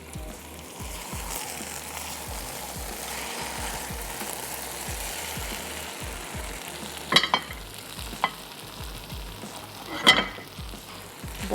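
Sindhi biryani being stirred and mixed in a cooking pot, a steady soft scraping and rustling with low sizzling throughout, a few sharper knocks of the spoon against the pot near the end, no talking.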